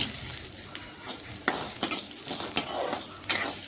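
Whole coriander seeds frying in oil in a kadai, a steady close sizzle with repeated scraping and stirring knocks of a spoon against the pan, no voices.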